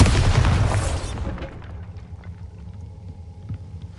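The Bombarda blasting spell in Hogwarts Legacy erupts in a loud, close explosion that booms for about a second, then fades into a low rumble with scattered debris sounds.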